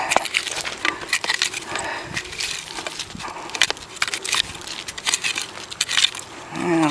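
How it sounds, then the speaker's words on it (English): Metal digging tool striking shards of broken glass buried in root-filled soil at an old dump site, giving repeated sharp clinks and crunchy scrapes in an irregular rhythm, close and fairly loud. "You can really hear that glass when you hit it."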